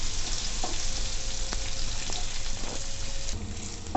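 Chopped onions sizzle in a pan over a medium gas flame, a steady frying hiss with a few light clicks and scrapes from stirring, close and continuous throughout.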